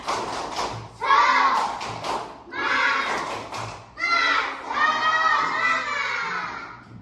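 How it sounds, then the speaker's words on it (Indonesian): A classroom of schoolchildren performs a rhythmic spirit clap chant during a lesson, loud group shouting in bursts with claps and thumps between short pauses, close and lively. "Coba tepuk semangat."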